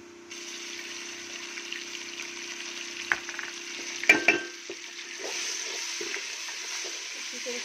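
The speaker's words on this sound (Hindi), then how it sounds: "थोड़ा सा ज़ीरे को भी हम भूनेंगे। अभी इसमें जाएगा अदरक लहसुन का पेस्ट।" Cumin and ginger-garlic paste fry in a pot for potato-and-pea curry, a soft steady sizzle joined by a humming tone, with a few sharp clinks of a spoon stirring midway and the frying growing slightly louder afterward.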